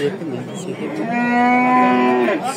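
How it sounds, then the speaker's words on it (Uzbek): A cow at a livestock market gives one long, loud, close moo lasting about a second and a half over faint crowd background. "Sigir kelyapti."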